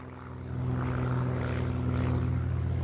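A short takeoff and landing propeller airplane drones steadily and close, its engine hum rising in level after the first half second and then holding loud and even, with no talking, in the Alaska flying country over beaches.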